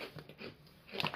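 Someone chews crunchy pizza-flavoured Polish bread crisps. The bites give faint, soft crunching and crackling close to the mouth, with a slightly louder burst of crunching near the end and no speech.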